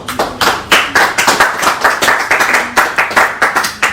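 Audience clapping for a donor at a live fundraising rally, a steady run of sharp, fairly close claps with rhythmic bursts throughout, no talking over it.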